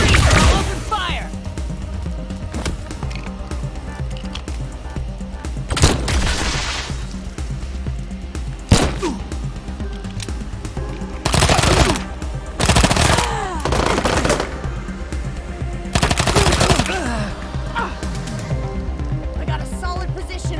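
Gunfire in a Wasteland 3 video game firefight: loud automatic bursts and single sharp cracks, repeating in clusters over a constant low rumble, with voices in places.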